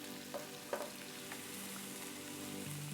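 Chopped vegetables for a bolognese sauce sizzle in a hot, high-sided 7-quart skillet, a soft steady frying hiss with a few light clinks and stirring knocks, faint and close.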